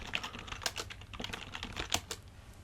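Someone types a password on a computer keyboard in a quick, uneven run of close, crisp key taps lasting a few seconds, with no voices.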